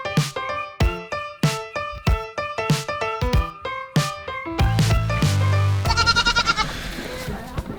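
Goats at a goat farm bleat repeatedly, a rapid run of loud, close, wavering cries one after another, ending in a longer overlapping chorus.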